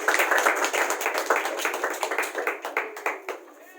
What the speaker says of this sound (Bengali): খুব জোরে হাততালি।